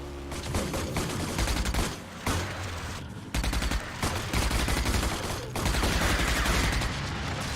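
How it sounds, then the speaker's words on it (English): Sustained minigun fire in the video game RAGE, dense rapid bursts that roar loudly and continuously, with brief pauses between long strings of shots. "I now have miniguns so I can fight people. I've only got 800 bullets though."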